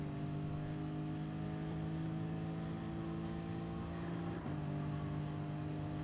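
A Lexus RC F Gr. 4 race car in Gran Turismo Sport at the Nurburgring GP circuit gives a steady, loud engine drone, with a brief dip and pitch change near the end as the throttle shifts, and no talking.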